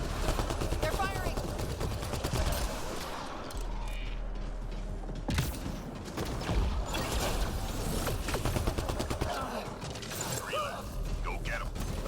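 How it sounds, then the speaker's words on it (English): Gunfire in the Mass Effect Andromeda multiplayer video game: dense, loud rapid-fire bursts and mechanical clatter that continue almost without pause, with a brief quieter lull near the middle. "They're firing."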